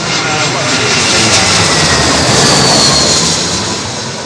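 A jet airliner roars low overhead on approach to runway 27L at London Heathrow, a loud, broad rushing engine noise sustained throughout before easing slightly at the end.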